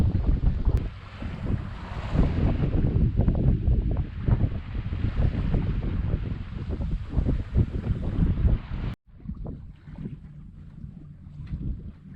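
A sailboat moving under wind on open water near a Mexican anchorage, with steady loud wind rush over the microphone and water sloshing against the hull. The roar drops abruptly near the end, leaving calmer water and wind.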